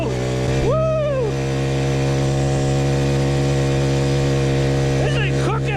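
A 58cc SYX Moto mini dirt bike engine drones loudly and steadily while being ridden, its buzzing pitch rising with throttle blips near the start and end, close up, with a voice briefly heard over it.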